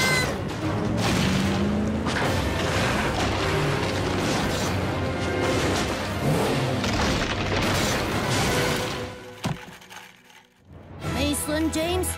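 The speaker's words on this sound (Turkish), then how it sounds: "Hazineyi almak mağarada çöküş başlattı." A cave collapsing: loud rumbling crashes and booming debris fill the scene continuously, with a brief hush near the end before more clattering resumes.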